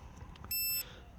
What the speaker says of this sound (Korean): 자, 삐삐 이 소리가 2번 나면 안 움직입니다.